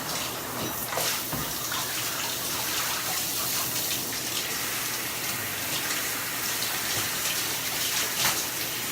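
A shower runs steadily, water spraying and splashing nearby in a continuous hiss, with faint thuds as it falls, and no one speaking.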